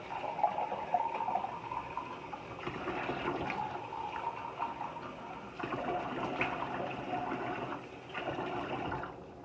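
Water runs from a tap in a steady gush while a coffee cup is rinsed clean, the flow shifting in strength a few times and close by, with no talk over it.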